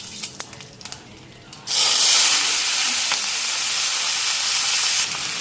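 Black cumin seeds hitting a hot pan break into a loud, sustained sizzle. Faint clinks come before it, and the hiss holds steady for several seconds before tapering off.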